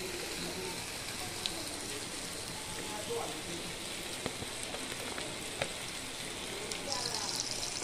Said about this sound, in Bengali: সুন্দর করে পটলটাকে ভেজে নিলাম